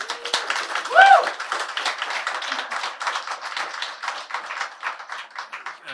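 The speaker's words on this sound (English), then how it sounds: "So a round of applause for Kim Brooks, please." Moderate applause from a gathered audience at a university event, a steady patter of clapping that holds throughout without voices over it.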